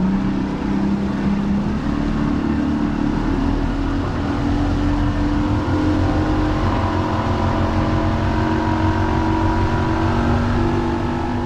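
A motorboat engine drones loud and steady throughout the ride with continuous hull and water rush. No voices are heard.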